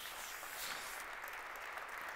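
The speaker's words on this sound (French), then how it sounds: "Ils méritent une chaude main d'applaudissements." Crowd applause for the organizing committee of a 150th-anniversary opening ceremony, a soft continuous wash of clapping that sounds fairly distant and stays even throughout.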